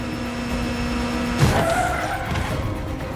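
Car in the video game Gotham Knights revving under throttle, then a sharp tire skid and squeal that bursts out loud near the middle and trails off over steady engine drone.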